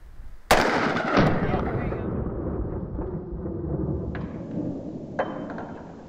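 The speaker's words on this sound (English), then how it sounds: "we were able to successfully demonstrate it with 9mm" A 9mm gunshot fired at a folding origami-style bulletproof shield cracks sharply once up close, followed by a long rolling echo and a couple of fainter impacts later, with a voice briefly audible.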